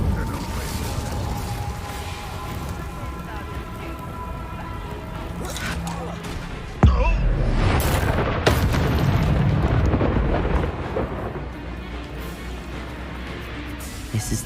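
An Incendio fire spell in Hogwarts Legacy erupts with a sudden loud whooshing blast that is followed by a sustained roaring burst and rumble, set against tense game music and combat noise.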